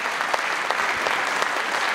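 An audience at a panel discussion on sustainable work policy gives warm, sustained applause, a dense even wash of many hands clapping, with no speech over it.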